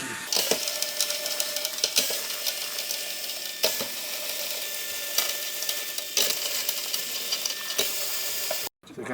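Tension rods on the resonant head of a DW snare drum being loosened, giving a steady run of close ratcheting, clicking metal turns that continue almost without pause, with a brief silent gap near the end.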